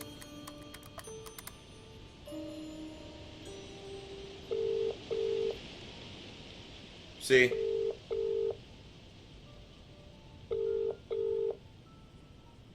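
Several short pairs of electronic dialing beeps from a phone box in a video game ring out in a quiet space, with a brief burst of noise and a single spoken word between them.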